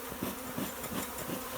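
Calm bees at a newly started hive, humming steadily at close range with a gently pulsing drone and no talking.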